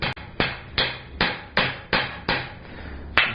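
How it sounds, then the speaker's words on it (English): A smaller rounding hammer strikes a forged steel coat-and-hat hook with its round face, curling the end: eight sharp, ringing metallic blows at a steady pace, close and loud, with no voices. "I've got the round side of my smaller rounding hammer here, and I'm pushing it out and give it a little curl."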